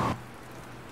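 A mild rain ambience from a game audio environment gives a steady soft hiss of falling rain, following a brief louder burst at the very start.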